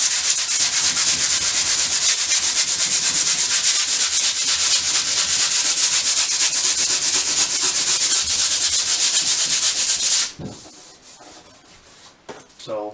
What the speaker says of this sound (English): I'm going to give the whole board a sand over